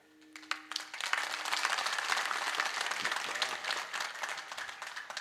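A crowd at a comic kirtan in Nanded breaks into sustained applause, with dense clapping that builds quickly and holds strong for several seconds.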